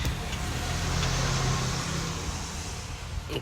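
A delivery truck reverses at a Bisleri water godown in Chinchwad, its engine a steady, fairly loud low rumble that holds throughout with a slight waver, with no voices.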